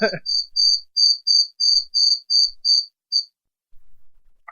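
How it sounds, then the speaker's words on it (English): A soundboard cricket effect plays as a run of about ten quick, evenly spaced high chirps, clean and alone, after a brief burst of noise and before a faint short sound at the end. "You're murdering it with crickets."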